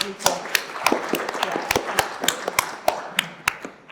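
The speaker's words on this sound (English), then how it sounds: "I'll definitely give you all a round of applause" Scattered applause from a small audience at a panel discussion, a handful of distinct, separate hand claps at an uneven rhythm, sounding close and sparse rather than a full crowd.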